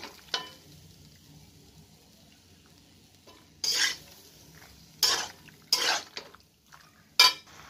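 A little water goes into a hot frying pan during cooking, raising several short, close bursts of sizzling and hissing between quieter stirring sounds.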